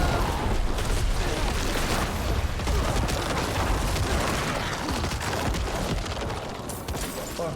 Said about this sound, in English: These explosions are no joke.